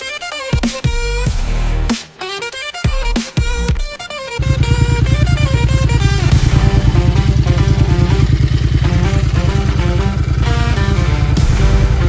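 A 2019 Royal Enfield Interceptor 650 motorcycle engine sputters and revs a few times, then settles into a loud, steady idle with a throbbing rhythm, close by.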